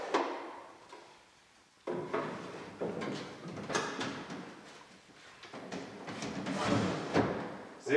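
The drawer of an antique Biedermeier mahogany cylinder-top secretary desk being pulled and pushed, giving soft wooden sliding scrapes and knocks, close and fairly quiet, with several bursts across the stretch.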